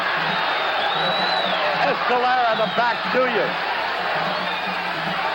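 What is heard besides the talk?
boxing crowd on its feet cheering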